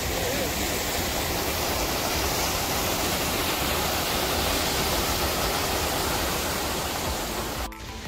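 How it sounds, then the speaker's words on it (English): Riffle Falls waterfall roaring loud and close, a dense unbroken rush of falling water that holds steady throughout before dipping briefly at the very end. "To the top of the waterfall."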